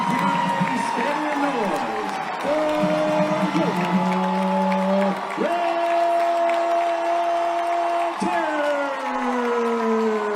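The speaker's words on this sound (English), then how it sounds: "you can hear that crowd roar for their Glynn Academy Red Terrors" A big football crowd of some 10,000 to 12,000 roars under the Friday-night stadium lights for the Glynn Academy Red Terrors as they take the field against their in-town rivals. Steady, loud cheering runs the whole time, with long horn- or siren-like tones over it.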